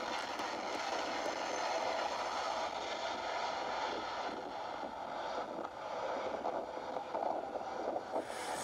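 An Amtrak train on the Northeast Corridor rumbles past at moderate distance, a steady broadband roar of wheels and cars with a faint hiss, no voices.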